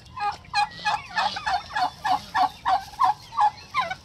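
Five-month-old hybrid turkeys gobble in a quick, loud run of about a dozen rhythmic bursts close by, with no one speaking.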